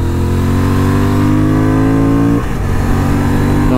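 A Honda Transalp 750 motorcycle engine on the highway holds a loud, steady drone at speed, then its pitch drops abruptly partway through, as with a gear change or easing off the throttle.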